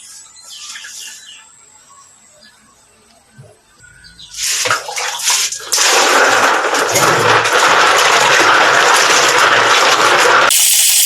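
Field snails being washed in water to loosen soil, first quiet handling, then a loud, continuous splashing and sloshing rush of water close by.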